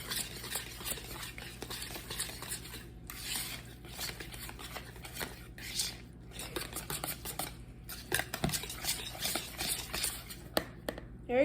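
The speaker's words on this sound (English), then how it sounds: "Now we're just going to use a whisk to mix everything together." A whisk mixes guacamole in a bowl with repeated soft scraping and tapping strokes, steady and close, with occasional sharper clinks against the bowl.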